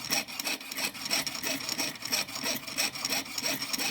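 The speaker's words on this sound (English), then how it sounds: "once I'm done sawing this out" A hand saw cuts out a metal ring design, a fine rasping stroke repeating in steady quick rhythm for several seconds, close and alone.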